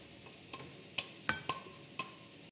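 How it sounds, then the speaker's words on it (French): A sieve of flour is shaken over a batter of flour and yeast, giving a handful of light, sharp metallic taps, about six spaced clicks over a quiet background with no talking. "on va venir secouer pour tamiser"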